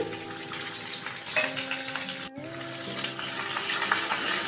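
Slit green chillies hit hot oil in a tempering for dhokla, a steady broadband sizzle with faint tonal ringing, briefly cut near the middle then swelling louder and brighter to the end.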